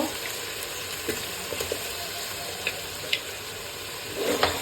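Spice masala of salt, coriander powder and tomato sautés on a slow flame, a continuous soft sizzle with occasional light stirring taps and a brief louder crackle near the end.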